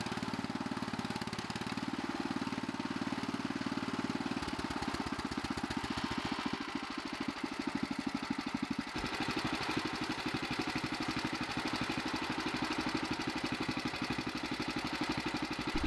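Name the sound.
1961 Bolens Ride-a-matic garden tractor engine idling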